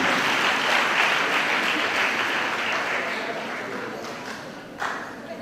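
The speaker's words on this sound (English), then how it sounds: "Let us clap again for him." A crowd at a constituency gathering claps for an official, a dense, sustained round of applause that gradually tapers off, with one sharper clap near the end.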